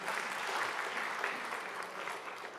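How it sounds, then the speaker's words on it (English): Audience clapping at a congregation gathering, a steady wash of applause from many hands filling the room without pause. "you should clap for that"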